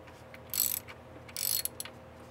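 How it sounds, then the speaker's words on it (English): A hand ratchet working a 10mm bolt on the thermostat housing of a BMW E36 328i, two short bursts of quick metallic clicking, close and fairly quiet. "I've got to unbolt this and I'll get to my thermostat."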